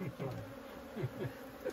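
Wild bees buzz close by as they are moved from a nest into a hive box in a mountain national park, with a steady drone broken by several louder passes from individual bees.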